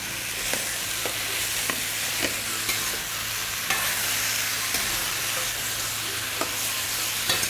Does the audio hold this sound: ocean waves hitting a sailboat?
no